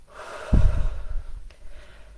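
One deliberate breath, a slow audible inhale and exhale, close and soft, with no talking.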